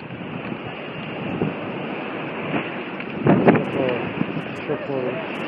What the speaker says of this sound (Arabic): أمواج البحر